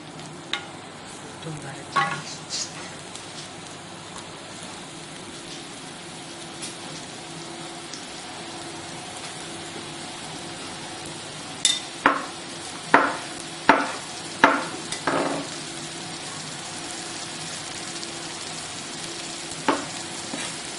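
Mushrooms stir-fry in a pan for an Italian-style vegan dish, a steady low sizzle running throughout, broken by a few sharp scrapes and clacks of the stirring utensil in the second half.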